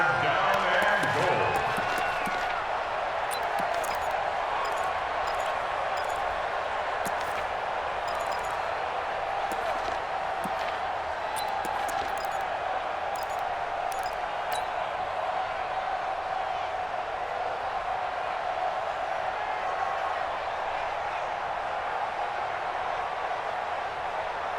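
Stadium crowd noise from a football video game set in a domed stadium, a steady loud roar sustained throughout, with brief bursts of cheering and clatter early on.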